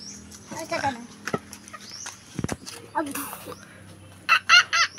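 A rooster crows among scattered hen clucks, with voices talking nearby and a few sharp, close clucks near the end.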